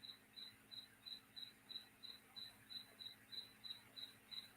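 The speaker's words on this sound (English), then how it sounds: "Yeah, that is a cricket out in the shop." A cricket chirps outside in a shop, its short, evenly spaced chirps repeating steadily and faintly on their own against a quiet background.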